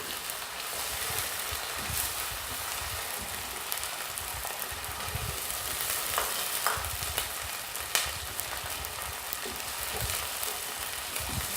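Steady, close sizzling of onions, ginger-garlic paste and green chilies frying in oil, a continuous crackle with occasional clinks and stirring.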